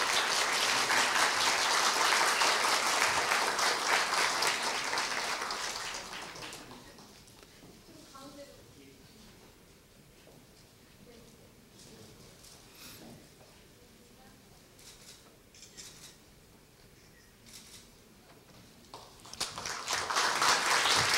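Strong applause in a hall at a Korea University staff retirement ceremony during a commemorative gift presentation, dying away after several seconds into a long quiet stretch of low room murmur and movement, then a fresh burst of clapping at the end.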